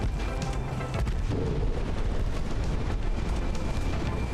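A torpedo strikes a warship in the naval game Ultimate Admiral: Dreadnoughts, during a British-German war of 1890, as a dense, sustained rumbling roar with low booms that fills the whole stretch without pause.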